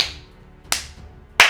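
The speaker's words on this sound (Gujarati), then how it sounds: "3 તાળીઓ પાડવાની જરૂર છે" Three sharp hand claps ring out alone in a quiet room, evenly spaced about two-thirds of a second apart, each bright and crisp.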